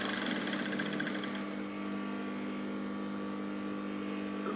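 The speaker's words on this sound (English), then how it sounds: "I'm just stitching the waist down" Sewing machine stitching down the waistband of short pants, a steady close mechanical hum with a rapid rattling stitch that slows slightly partway through, running alone without talk.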